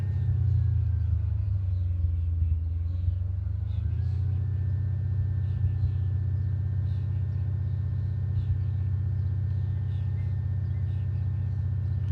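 A 2005 Audi S4 with a misfiring engine, cruising: a steady, loud low rumble of the engine and road noise runs throughout, with a faint rising tone after a short dip early on.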